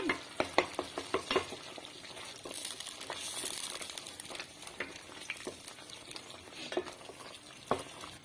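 A wide pan of sabudana (sago) halwa being stirred on the stove, giving repeated close scraping clicks of a spoon against the pan over a soft, steady sizzle, with no one speaking.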